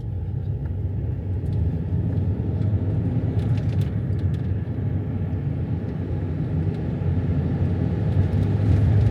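A Volvo C30 R-design drives along at steady speed, its deep engine and road rumble droning continuously and loudly from inside the cabin, with no voices.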